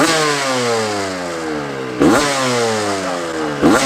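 A 1992 Honda CR125R two-stroke dirt bike fitted with a Team Bud silencer revs loudly and up close, its engine pitch rising and falling in sweeping surges, with two sharp throttle blips cutting through.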